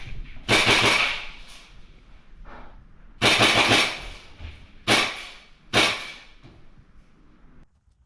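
Airsoft guns fire during an outdoor skirmish game, several sharp bursts of rapid shots with quiet gaps between them, fairly close and loud.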